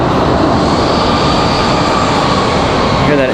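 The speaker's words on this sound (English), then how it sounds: "Hear that A319 going to the gate finally." Airbus A319 airliner taxiing to the gate at an airport, a loud steady jet engine roar that stays constant and close throughout.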